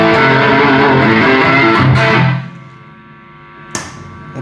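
A PRS SE electric guitar with single-coil pickups rings out a loud strummed chord that fades after about two seconds, leaving a steady low electrical hum underneath, followed by a brief pick or string click near the end.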